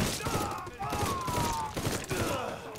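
Rapid bursts of gunfire from a burst-fire weapon in the game Mafia III, repeating several times in quick succession with thuds, set under game music and background voices.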